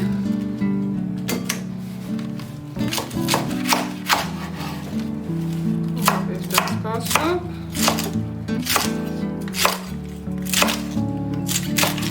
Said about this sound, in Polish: Kapustę oczywiście też pokroję na takie grubsze kawałki.